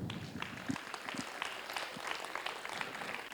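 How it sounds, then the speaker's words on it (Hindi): Theatre audience applauding after a play on the closing day of a drama workshop, a dense, even patter of many hands clapping at moderate distance, steady throughout with faint voices mixed in. "सबके लिए जोरदार तालियां।"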